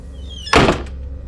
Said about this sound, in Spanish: Vi cómo jalaron la puerta desde dentro. Escuché cómo se cerró con fuerza.